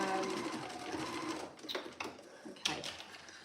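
A sewing machine runs steadily while stitching the facing seam of a Peony dress, then slows into a few short bursts of stitching with brief pauses between them.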